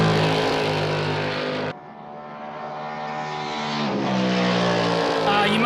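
Race car in a sim racing game at VIR, LMP 900 or GT1 class, its engine loud and close, roaring through the revs, cutting sharply on a downshift, then climbing again in a harsh rising tone.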